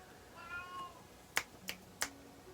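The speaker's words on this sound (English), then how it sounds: "You're going to hear Marley crying in the background." A sad cat meows in a rising, wavering cry early on, then falls quiet while three sharp snap-like clicks follow, with a low hum between them.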